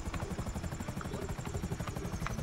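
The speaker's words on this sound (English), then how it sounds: "Yeah, because I changed what my personal vehicle was to the helicopter so I could go pick everybody up." Akula helicopter in GTA Online flies with rapid, rhythmic rotor chopping, steady and moderately loud, without talk over it.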